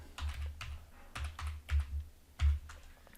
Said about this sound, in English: you want to type the command